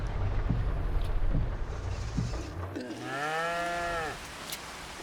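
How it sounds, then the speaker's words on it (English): Cattle and baby calves on a farm, one clear drawn-out moo rising out of wind and rumbling background, fairly close and moderate in volume. "See the baby calves."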